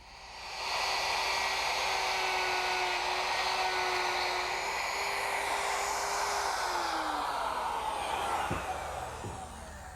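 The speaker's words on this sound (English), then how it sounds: "That's a job for the mortiser." A woodworking mortiser cuts mortises in a wooden headboard for a trundle bed, a steady loud motor drone whose pitch sags near the end, followed by a couple of sharp knocks.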